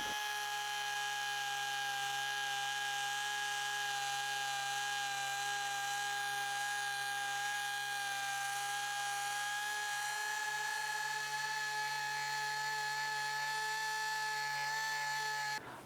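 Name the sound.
orbital air sander with 120 grit sandpaper on metal mudguard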